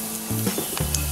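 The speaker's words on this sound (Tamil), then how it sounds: "எண்ணெய் காஞ்சதும் கடுகு கடலப்பருப்பு போட்டுடலாம். கடுகு கடலப்பருப்பு போட்டாச்சு." Mustard seeds and chana dal sizzling in hot oil give a brief, close hiss with faint crackle.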